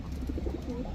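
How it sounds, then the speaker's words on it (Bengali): Brief soft cooing from a pair of Giribaz high-flyer pigeons held close, low throaty burbling notes with no talk. "এখন দেখাবো টকটকা লাল গিয়ারের এক জোড়া ময়না ঝাক কবুতর"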